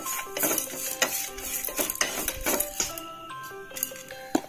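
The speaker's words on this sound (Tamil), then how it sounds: "குறைந்த தீயில இப்படி வறுத்து எடுத்துக்கோங்க." Grated coconut dry-roasting on a low flame in a pan, with scattered clinks and scrapes of a spoon stirring against the metal in uneven bursts, close by and fairly quiet.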